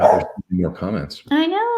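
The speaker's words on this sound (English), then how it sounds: "I'm so sorry if you hear my dog barking." A dog barks and yips indoors during a live online session, short sharp calls mixed in with a woman's continuous speech, close by and fairly loud.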